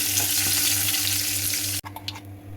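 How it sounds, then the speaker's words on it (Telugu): Curry leaves hit hot oil already crackling with mustard seeds and cumin for a red chilli chutney tempering, a loud continuous sizzle that cuts off abruptly, leaving a few faint clinks and pops. "ఇప్పుడు కరివేపాకు వేసుకుంటున్నాం"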